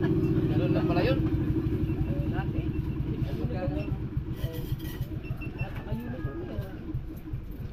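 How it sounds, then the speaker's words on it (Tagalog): A Honda engine idles close by with a rapid, even low chugging rhythm that runs steadily while people talk over it. "Ang ganda na tulog ng makina niya."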